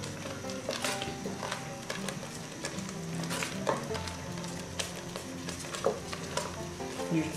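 Peanut paste sauce with smoked fish bubbles in a pot as a spoon keeps stirring, giving repeated scraping and clacking strokes over a soft steady sizzle, close and moderate in level.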